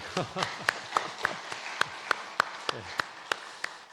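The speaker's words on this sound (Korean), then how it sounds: "우리 박수 한번 칠까요?" A church congregation claps along in a regular beat, each sharp clap distinct and evenly spaced over a few seconds, with faint voices underneath.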